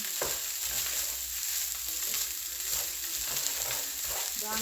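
Chicken fried rice sizzles steadily in a hot pan, with occasional scrapes of stirring cutting through the continuous frying hiss, close and without talk.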